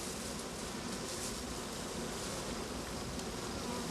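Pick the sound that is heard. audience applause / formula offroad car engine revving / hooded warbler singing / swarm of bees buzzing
swarm of bees buzzing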